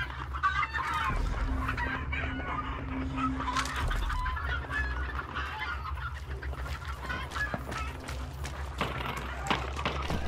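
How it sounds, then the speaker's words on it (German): Chickens cluck and squawk in the video game Hunt: Showdown, a busy continuous flock chatter heard at moderate distance over the game's ambient noise, with a low sustained tone in places. "Scheiße, Hühner."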